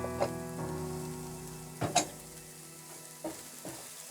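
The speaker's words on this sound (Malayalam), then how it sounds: "അതിലേക്ക് ഈ അരിഞ്ഞു വെച്ചേക്കുന്ന സുക്കീനി അങ്ങിടാം. ഒന്ന് ഇളക്കി കൊടുക്കാം." Chopped zucchini sizzles quietly in a hot pan while being stirred, with a steady low frying hiss broken by a few sharp scraping clinks of the spoon against the pan.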